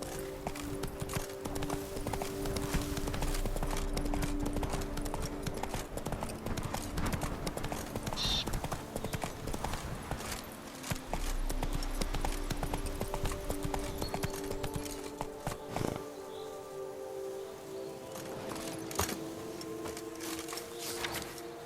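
A horse gallops in The Witcher 3, with steady rhythmic hoofbeats clip-clopping up close over an ambient game soundscape, broken by brief pauses, while a voice speaks at moments.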